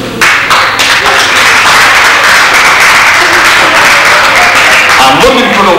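Loud, dense applause from a comedy club audience, continuous clapping and crowd noise filling the room from start to finish with no pauses.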